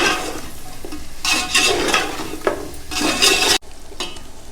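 Raw chicken being mixed with salt by hand for gongura chicken biryani gives wet squelching, rhythmic sloshing strokes, close and fairly loud, which cut off abruptly before resuming.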